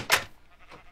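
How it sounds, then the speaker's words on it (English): A single sheep bleat from Minecraft survival gameplay, short and nasal, loud and up front, then trailing off into near silence. "I can't kill the sheep and get mutton."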